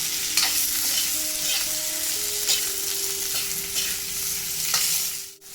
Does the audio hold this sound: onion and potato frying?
yes